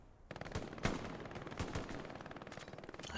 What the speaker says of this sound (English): That MG in the north is still devastating.